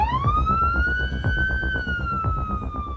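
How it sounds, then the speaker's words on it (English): A loud ambulance siren wails nearby in a long rising and falling tone, with the vehicle's rumble beneath it. "Ambulance and siren."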